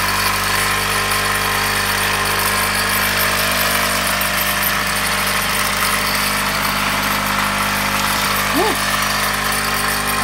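A 1.5 hp electric motor running at idle gives a steady, loud, unbroken hum and whir that holds even throughout, with a voice talking over it.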